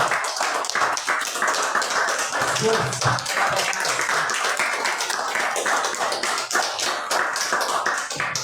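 A church congregation at a family service claps for the Lord, producing dense, continuous applause that stays loud and even throughout, with a faint voice briefly audible underneath.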